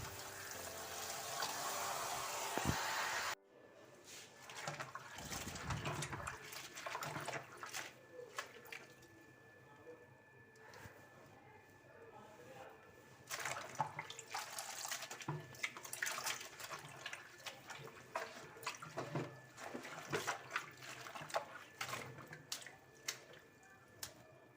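Red amaranth leaves are washed under running water, first as a steady gush from a tap and then as scattered splashing, dripping and swishing of wet leaves in a bowl, fairly close and quiet.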